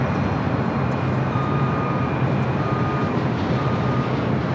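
Boeing 787 Dreamliner taking off from runway 25 right at LAX, a steady broadband jet engine roar that stays loud and unbroken throughout, with a faint tonal whine above it.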